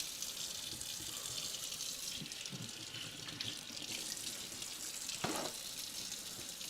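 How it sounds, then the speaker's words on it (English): Tap water runs steadily into a kitchen sink as carrots are rinsed during late-night meal prep, a continuous hiss with light splashing shifts and a brief clunk near the end. "I'm going to give these carrots a quick rinse."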